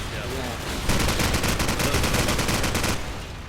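Rapid automatic gunfire from a Call of Duty 4 Promod competitive match rattles continuously for about two seconds, loud and dense bursts of shots that start abruptly and cut off, over a steady game background.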